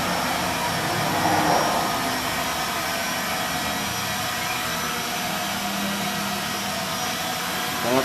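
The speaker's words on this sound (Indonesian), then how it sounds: "Sangat stabil drone-nya." A JDRC XBM-65 drone hovers and flies with a steady, loud, whining buzz that stays constant and close throughout.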